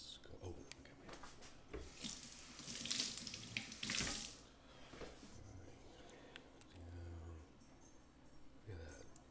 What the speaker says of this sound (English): Let me get my hands wet and wash it first.